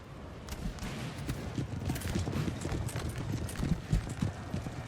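Hooves of horse artillery in a Napoleonic battle in Napoleon: Total War clatter in a dense, continuous clip-clop, a moderately faint rumbling mass of galloping horses without speech.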